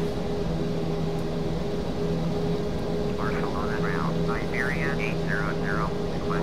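A Vueling A320 airliner taxiing in Microsoft Flight Simulator X at Barcelona gives a constant engine whine and broadband roar, with a faint warbling voice-like sound partway through.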